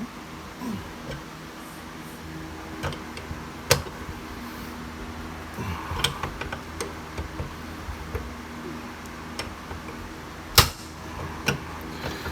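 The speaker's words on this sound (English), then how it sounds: "that popping noise is just it coming loose through there" Sharp, isolated pops and cracks of a rusted bolt on a Jeep XJ frame breaking loose, a few loud ones scattered among smaller clicks over a low mechanical hum.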